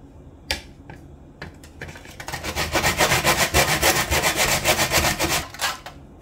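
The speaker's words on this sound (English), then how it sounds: "just gonna grate the ginger right beside the nutmeg" Fresh ginger and whole nutmeg rubbed against a hand grater for Jamaican gizzada, starting with a few isolated scrapes, then settling into a steady, fast rasping stroke rhythm, close and loud, before easing off.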